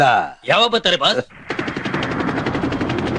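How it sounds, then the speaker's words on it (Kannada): A helicopter is heard in the background of a comedy film scene, a fast, steady rhythmic chopping that starts after a few spoken words and carries on to the end. "ಬ್ಯಾಕ್ ಗ್ರೌಂಡ್ ಅಲ್ಲಿ ಹೆಲಿಕಾಪ್ಟರ್ ಸೌಂಡ್ ಕೇಳಿಸ್ತಿದೆ."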